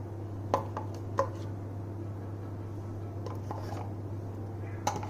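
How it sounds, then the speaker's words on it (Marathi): Rava dosa batter of semolina, rice flour, salt and curd is stirred by hand in a bowl, giving soft, sparse scraping and tapping sounds over a steady low hum, fairly quiet and close. "सगळं मिक्स करून घ्यायचे."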